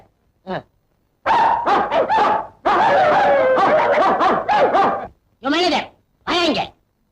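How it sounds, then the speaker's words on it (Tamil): Several dogs tied up to guard a mill bark loudly and close in repeated bursts, with someone talking over and between the barks. "4-5 நாயை கட்டி வச்சு கொலைக்க விட்டு கஞ்சி ஊத்துறியா?"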